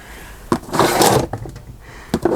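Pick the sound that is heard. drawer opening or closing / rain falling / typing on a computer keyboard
drawer opening or closing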